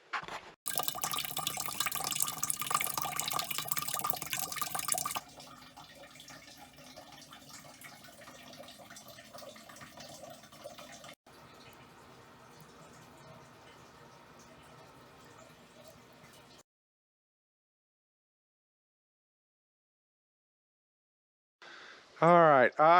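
Cold water runs from a tap in a loud steady gush at first, then keeps flowing more quietly and then more quietly again before stopping, and a brief louder burst of sound follows after a pause.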